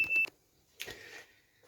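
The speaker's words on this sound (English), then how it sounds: "Yes, that was the fire alarm that just went off" Kitchen fire alarm set off during cooking, a quick burst of short sharp electronic beeps followed by a louder, longer tone that fades, both fairly faint in a quiet room.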